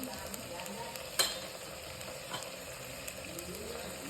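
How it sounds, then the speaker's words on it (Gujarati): Vegetables sautéing in a pan for a home-style Gujarati dish, with a steady close sizzle and the scrape of stirring, plus one sharp clack of a utensil partway through. "બરાબર આપણે સાંતળી દઈએ બરાબર સંતળી ગયું છે"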